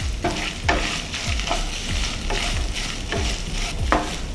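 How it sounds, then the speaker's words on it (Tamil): Grated coconut and curry leaves fry in a pan over a low flame, giving a soft continuous sizzle broken by regular scrape-and-toss stirring strokes, close up with no talking. "இதில் தேங்காவை போட்டுறேன். போட்டு வதக்கலாம்."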